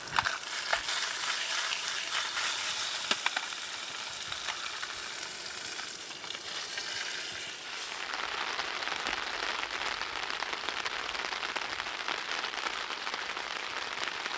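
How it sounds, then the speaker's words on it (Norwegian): Steady rain patters on a tent in the wilderness, a dense, even hiss that continues alone and unbroken, moderately loud and close, easing slightly midway before settling back into a constant drumming. "Der kom regnet, gitt."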